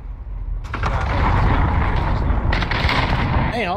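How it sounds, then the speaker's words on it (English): Call of Duty combat rumbles with loud explosions and artillery-like booms in a thick, continuous barrage, with sharp cracks on top and a brief whistling streak near the end. "all I heard is explosions everywhere"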